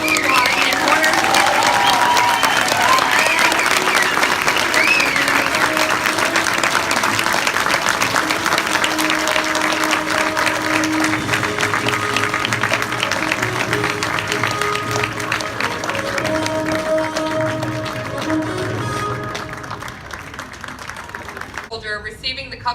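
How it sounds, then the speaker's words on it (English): Sustained applause from a large crowd at a US Army infantry graduation ceremony for rifle squad and mortar graduates at Fort Benning, steady and loud for about twenty seconds before fading, with music-like tones mixed beneath. "please join us in a round of applause for the United States Army Infantry Rifle Squad and Mortar"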